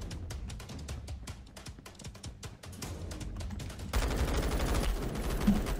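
Rapid gunfire from the Roblox shooter game Phantom Forces, a dense run of sharp repeated shots that grows louder and busier partway through.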